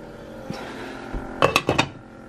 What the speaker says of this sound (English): I gotta put a lid on that.